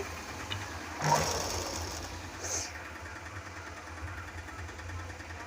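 A sewing machine stitches blouse lining with a steady, fast mechanical whir and rhythmic clatter, moderately close, running throughout with faint background noise.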